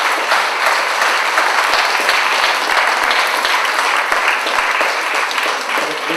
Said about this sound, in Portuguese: para quem eu peço um forte aplauso